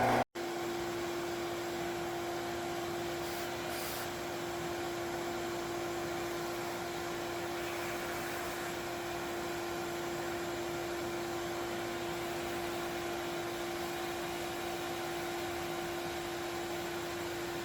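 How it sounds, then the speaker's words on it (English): A vacuum cleaner runs with a steady, even whine and airy hiss while clearing debris during drilling on an engine, starting just after a brief click at the beginning and holding constant throughout, with no talking. "Now I'm going to turn my vacuum on and make sure I get all those pieces out while I drill."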